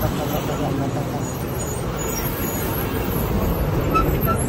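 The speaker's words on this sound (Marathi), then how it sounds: "गाड्या काय स्पीडने जातात." Steady road traffic along a highway during a Sai palkhi padyatra from Borivali to Shirdi, with buses, cars and trucks rushing past at speed in a continuous loud roar and voices talking over it.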